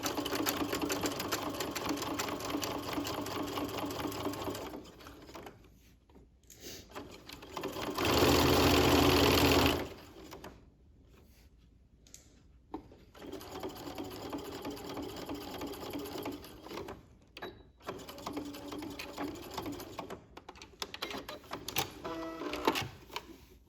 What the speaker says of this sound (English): we're going to do a straight stitch at that 1/2 inch.